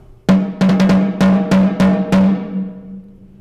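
A snare drum with two heads, struck with its snare wires disengaged, rings out in about eight separate hits with a clear, open tone and a steady pitched hum that lingers after each stroke. It is close and loud, with no talk.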